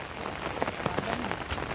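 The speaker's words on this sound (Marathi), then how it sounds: "हा मिरगाचा पाऊस आहे, पहिलाच पाऊस आहे." First monsoon rain of the season falling at night, a steady close patter of drops on surfaces with a few louder individual splashes, heard alone with no voices.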